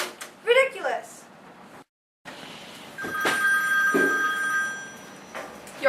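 A telephone rings in a radio drama as a call goes through to the police department, with bright repeated rings in the middle of the scene, preceded by a voice speaking and brief silence.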